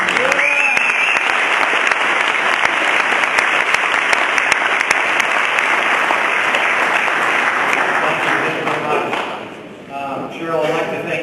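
An audience at a Business Alliance event on a House Bill claps as a speaker is welcomed. The dense, sustained applause holds steady, then thins and fades near the end, and voices come in under the last moments.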